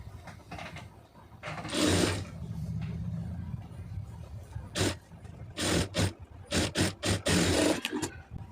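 A sewing machine stitches a blouse's lining piece in several short bursts: a longer run near the start, then quick start-stop spurts of needle clatter close by, with no talking.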